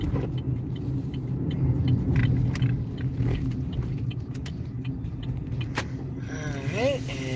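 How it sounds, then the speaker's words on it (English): A car's interior during reversing into a parking spot, low engine rumble and creaking movement, a short mechanical whir near the end, with a person talking over it. "here I go with the back end. That's the only way I park my car"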